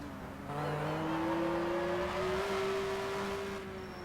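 A Ford touring car engine revs up during a 1996 BTCC race at Oulton Park, the pitch climbing steadily and holding loud before easing off as the car goes by.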